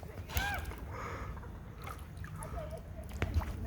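A kayak paddled one-handed through calm water in Florida, with quiet, intermittent paddle dips and light sloshing, with brief voices and chirps nearby.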